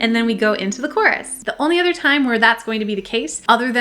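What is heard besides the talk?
No distinct noise like a dog, phone or traffic.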